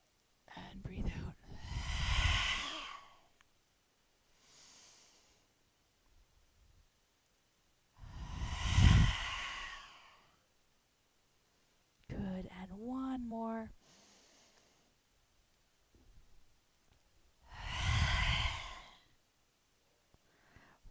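Slow, deep breaths during guided meditation rise and fall in four long, soft airy swells spaced several seconds apart, close and quiet, with a calm instructor's voice speaking between them.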